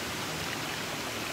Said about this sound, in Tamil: ஸோ மேலேருந்து அந்த தண்ணி வந்துட்டுருக்கு.